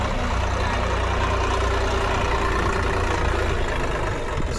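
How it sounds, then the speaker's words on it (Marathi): A tractor engine idles and rumbles close by, a continuous low drone with no breaks and no voices. "त्यामुळं मी ट्रॅक्टर फिरवायला आलो आहे"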